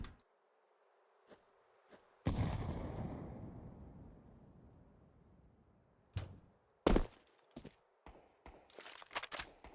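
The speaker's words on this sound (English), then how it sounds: "Deploying flashbang" A flashbang grenade goes off in Counter-Strike 2: a sudden loud bang with a long decaying ring, followed later by sharp scattered gunshots and impacts at varying distances.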